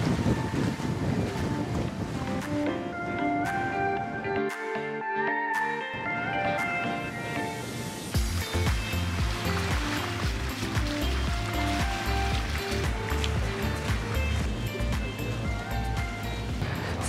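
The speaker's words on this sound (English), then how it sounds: "we're going to start motoring out the bay" Sailboat motoring out of a bay on the Adriatic in Croatia, a steady low engine drone with wind and water rushing around it, continuous and fairly loud, with tonal hum early on.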